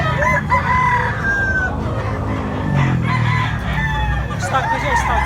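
A young rooster, a stag, crows repeatedly nearby with hoarse, uneven calls, and other fowl cluck around it in a lively farmyard.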